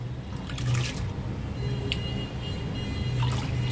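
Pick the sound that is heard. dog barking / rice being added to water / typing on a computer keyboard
rice being added to water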